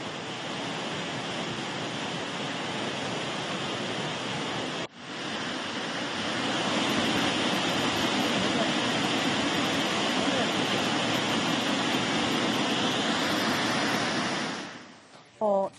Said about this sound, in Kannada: ಚಾರ್ಮಾಡಿ ಘಾಟ್ನಲ್ಲಿ ಅದ್ಭುತವಾಗಿ ನೀರು ಧುಮ್ಮಿಕ್ತಾ ಇದೆ.